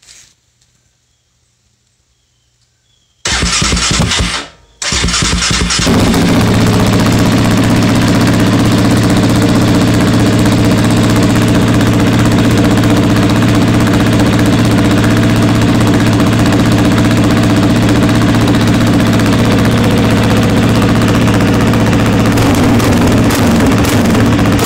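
A Yamaha Raptor 700 ATV with an HMF full aftermarket exhaust starts after a few seconds of near silence, then runs loud and close with a deep, throaty, rumbling exhaust note.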